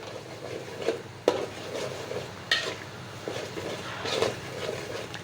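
Curry paste sautéing with turmeric in a pan, a soft sizzle under repeated stirring scrapes and a couple of sharp utensil knocks against the pan, close and moderately loud.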